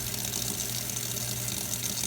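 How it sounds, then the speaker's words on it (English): Tap water runs steadily while small-base reloading dies are rinsed of degreaser, dirt and metal shavings, a constant close gushing rush with a low pump-like hum underneath. "just simple tap water"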